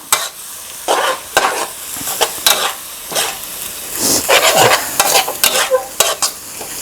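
Glass noodles stir-fry with chicken and basil for kaphrao, loud close bursts of sizzling and clattering spatula strokes coming in a rough rhythm about once a second.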